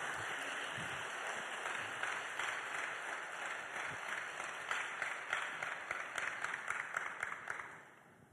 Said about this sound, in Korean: 우리 박수로 우리 환영하시기 바랍니다